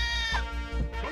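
Sheep in a video game bleat in a long, wavering, harmonic-rich cry that rises and falls over about a second, loud and close with no talk over it.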